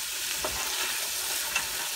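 Salted vegetables sautéing in a pan for mulligatawny, a steady close hiss of frying with a couple of brief stirring scrapes, no talking.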